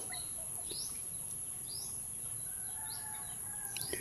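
Faint chicken clucks and short calls scattered over a steady high background hum, somewhat distant, with no one speaking.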